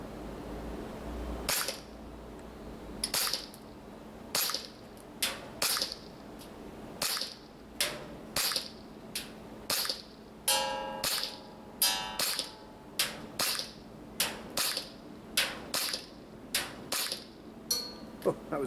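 A WE G19 Gen 5 MOS airsoft pistol fires 0.3 gram BBs at a target 40 meters away, producing about eighteen sharp, loud gas-blowback cracks at an uneven pace, each cutting off quickly, with no voices over the shots.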